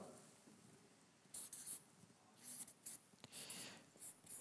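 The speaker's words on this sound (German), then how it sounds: "ich schreibe mal hier Nachbarn" Marker or chalk writing on a board during a German sermon about Jesus: soft, intermittent scratching strokes in short bursts, faint against a quiet room.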